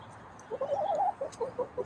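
A hen gives a run of soft, throaty clucks and a short warbling call, close by and moderately loud, over a faint background with no talk.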